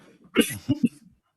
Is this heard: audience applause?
no